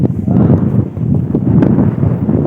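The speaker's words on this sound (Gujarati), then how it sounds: "હા પવન છે બહુ" Strong wind blusters across an open village field, buffeting the microphone with continuous loud low rumble and gusty rushing throughout.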